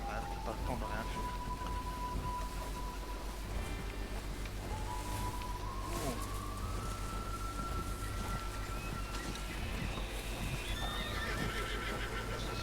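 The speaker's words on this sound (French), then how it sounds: "C'est quoi tous ces chevaux là?" Horses in the Red Dead Redemption video game whinny with rising tonal calls among hoof clatter, layered over a busy continuous game soundscape with rain and low rumble.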